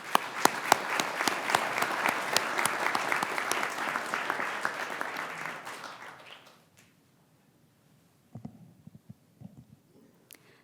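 A graduation ceremony audience applauds to welcome commencement speaker Faith Merez, a dense, loud round of clapping that fades out after about six seconds, followed by a few faint scattered sounds.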